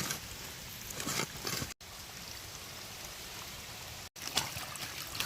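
A tiny runoff creek trickles steadily outdoors as a soft, continuous wash of water, with no voices and two brief dropouts breaking the flow.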